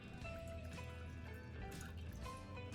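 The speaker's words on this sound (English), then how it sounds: "Then, pour the lemon juice into a small saucepan" Lemon juice is poured into a small saucepan, making a faint, continuous trickling splash that stays quiet and steady throughout.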